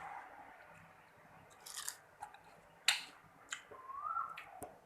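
Someone eats baked pork large-intestine sausage, with a few close, soft crunchy bites and chewing sounds scattered over quiet outdoor background.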